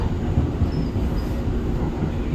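Inside a Pittsburgh light rail Red Line train, a low rumbling ride noise with faint wheel clatter rolls on continuously.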